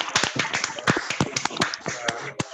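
Participants in an online meeting clap through open microphones, a burst of sharp, uneven claps and taps from several people overlapping for a couple of seconds, close and slightly compressed.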